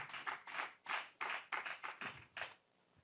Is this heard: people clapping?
yes